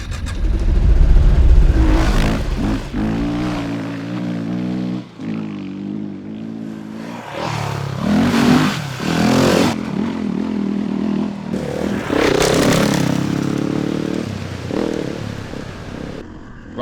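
A motorcycle rides along a country road, its engine rising and falling through repeated revs and gear changes. Loud and close for the whole stretch, with some rattling clatter and no voices.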